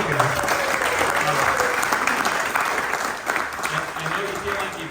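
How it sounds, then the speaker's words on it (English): Warm applause fills a Wharton Class of 1986 40th reunion dinner, steady clapping from the room at close range, with faint voices underneath and a slight dip before picking back up. "So another round of applause for the Amigos."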